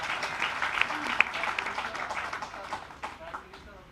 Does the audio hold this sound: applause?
yes